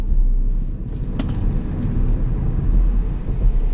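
A Tesla Model 3 AWD accelerates hard through a corner on a neighborhood street, giving off a steady, low road-and-motor rumble with a brief sharper rise in the middle and no speech.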